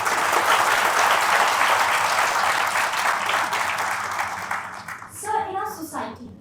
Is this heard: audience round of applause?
yes